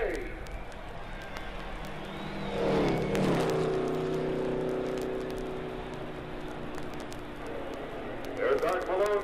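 Race car engines at the 1963 Indianapolis 500 swell into a loud roar mid-way as a car passes close, fade to a steady background drone, then rise again briefly at the end, with voices faintly present.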